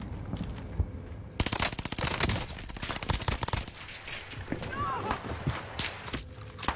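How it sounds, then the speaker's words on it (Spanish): Bursts of rapid gunfire coming from a prison, loud and rattling in quick volleys with scattered single shots, as voices talk excitedly in Spanish over the shooting. "Desde la cárcel están disparando."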